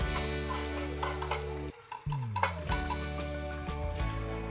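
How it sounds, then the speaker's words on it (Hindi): Garlic-ginger paste and green chilies dropped into a cup of hot oil in a cooking pot, sizzling and spitting with occasional utensil clinks, partly masked by steady background music. "अब हम इसमें ये लहसुन अदरक का पेस्ट ऐड करेंगे और सब्ज़ मिर्च,"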